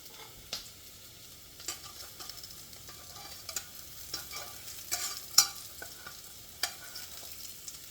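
Lentil sausage fries quietly in a pan, a low, soft sizzle broken by several sharp clicks and scrapes of a utensil moving it around, no voices.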